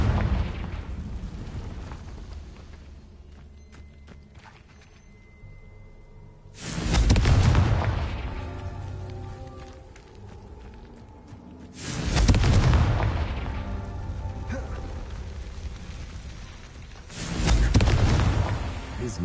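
Fire-based Confringo spell blasts in Hogwarts Legacy, three loud booming explosions spaced roughly five seconds apart, each with a rumbling decay over a low background.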